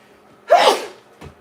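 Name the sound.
sneeze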